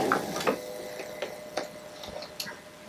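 A sewing machine stitches fabric pumpkin sections together, giving faint, irregular ticking and clicking over low background noise.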